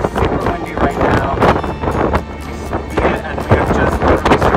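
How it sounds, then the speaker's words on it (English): Strong wind buffets the microphone in a steady rough roar on the top deck of a ship in the Drake Passage near Antarctica, with a person talking over it throughout. "It's just super windy right now."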